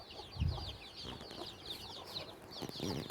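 Backyard chickens in a village near the India–Pakistan border cluck softly while pecking at pieces of water-soaked flatbread, with low, close clucks and scratching over a steady ambient background.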